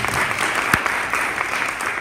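A crowd at a tribute celebration claps steadily, a thick continuous patter of many hands with one sharper nearby clap, sustained at even loudness throughout.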